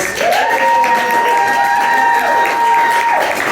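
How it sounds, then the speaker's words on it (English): A crowd claps and cheers in a steady, full round of applause, with a sustained tone ringing through the noise. "Another round of applause"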